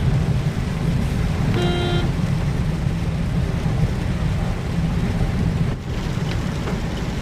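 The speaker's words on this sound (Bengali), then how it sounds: "ধারা বৃষ্টি হচ্ছে" Heavy rain pounds steadily on a car driving through fog near Kalna, a dense, unbroken roar with a short tonal beep early on and no voices.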